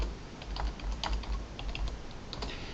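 Quick, light keystrokes tap out on a computer keyboard while entering a command in MATLAB, a close, steady patter of clicks against a low background hum.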